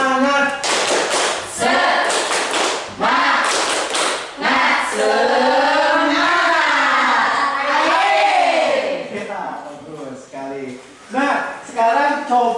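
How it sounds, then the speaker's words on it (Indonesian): A school class performs the 'tepuk semangat' rhythmic clapping chant together, loud bursts of group clapping alternating with chanted voices in a steady pattern. "Coba semuanya sama-sama tepuk semangat."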